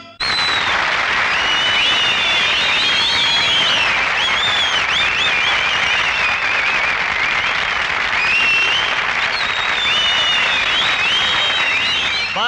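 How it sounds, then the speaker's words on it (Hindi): A stage show audience breaks into sustained, loud applause, a dense wash of clapping from a large crowd that holds steady without letup. "आपकी तालियां गवाह हैं कि आपको हमारे आइटम्स पसंद आ रहे हैं"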